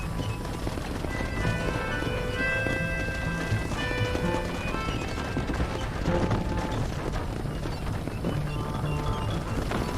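Horse hooves clip-clop steadily in the video game Red Dead Redemption, a fast running gait under a dense bed of game music and ambience, continuous and moderately loud.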